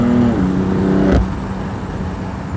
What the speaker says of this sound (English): now I get why the exhaust is so loud